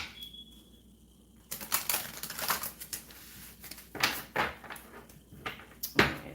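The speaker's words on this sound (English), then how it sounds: "One more shuffle." Tarot cards riffle and snap together in repeated bursts, a brief flutter followed by several quick shuffling rustles and a final sharp slap.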